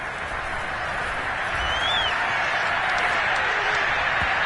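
Crowd applause in a Madden football video game after a defensive stop on an incomplete pass: a dense, steady wash of clapping and cheering from a stadium crowd, continuous and moderately loud throughout.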